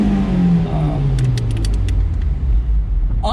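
A 2006 Honda S2000 AP2 sports car engine with stock exhaust rumbles loudly up close, its pitch sweeping down after a rev, with a few metallic clicks and a brief rising note at the end.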